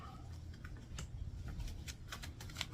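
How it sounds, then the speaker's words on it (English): A deck of tarot cards is shuffled close by, giving a run of soft, quick riffling clicks and taps that grows busier toward the end, with no talking. "they really want me to shuffle these up really good"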